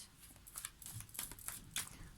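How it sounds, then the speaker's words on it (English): Tarot cards being shuffled by hand, heard as a quick series of soft, close riffling flicks in irregular bursts, faint but clear in a quiet room. "I shuffle cards and have a clarification"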